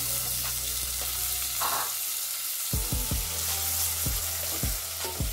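Garlic and tomatoes frying in a pan for a mushroom dish, a steady close sizzle with a handful of sharp scraping stirs near the end, no speech.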